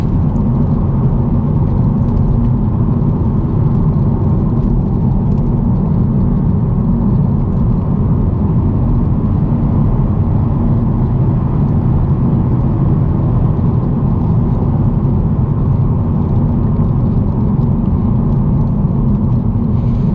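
Steady cabin drone of a 2022 Honda Civic Si with a six-speed manual cruising on back roads, a continuous low engine and road rumble with tire noise, even and unbroken throughout, no voices.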